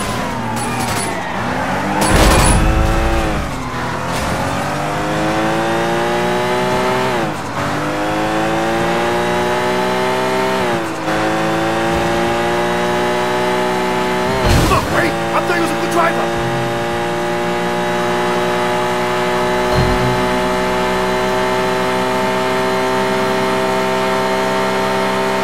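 Car engine revving and racing through a police chase in the Sleeping Dogs video game, a steady loud roar rising and falling with gear shifts, with sirens and occasional thumps and voices talking over it.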